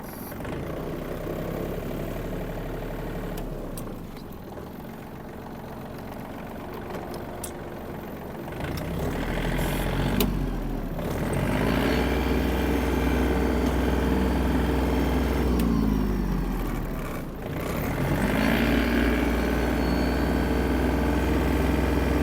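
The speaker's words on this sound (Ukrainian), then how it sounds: "ми з вами гарно прогріли тракторець" A Yanmar RS-24 Japanese mini tractor's diesel engine idles while warming up, a steady low rumble with a knocking undertone, briefly dipping and surging twice as the revs change.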